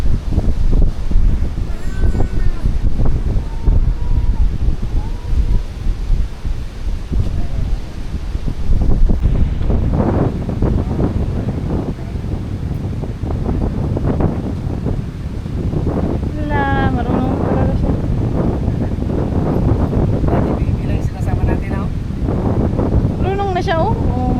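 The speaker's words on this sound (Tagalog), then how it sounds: "Masyado yung hangin." Strong storm wind buffets a campsite, a steady loud roar of gusts and microphone rumble running throughout, with people talking intermittently over it.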